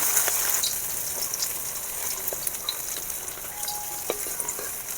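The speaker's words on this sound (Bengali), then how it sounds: "সবগুলো উল্টিয়ে নিয়েছি, সমস্ত মাছ ভাজা হয়ে গেছে" Pieces of catla fish fry in hot oil, giving a steady, close crackling sizzle with scattered sharp pops and spits throughout.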